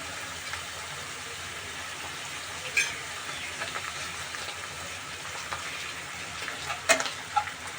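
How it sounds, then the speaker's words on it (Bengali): Cumin paste and spices sizzle and fry steadily in a pan for chicken curry, a continuous soft crackle with occasional stirring scrapes and brief clinks. "এবার আমি সবগুলো উপকরণকে একটু কষিয়ে নিব।"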